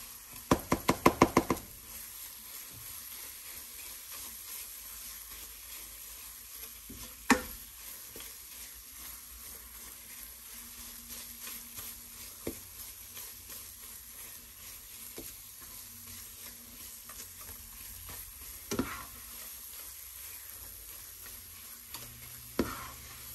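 A spoon stirs thick beetroot burfi mixture in a pan, scraping and knocking against the metal in a steady, quiet rhythm, with a few sharper knocks near the start.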